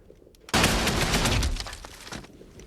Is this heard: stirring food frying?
no